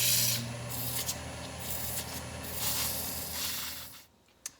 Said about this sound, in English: I'm going to sand it a little bit.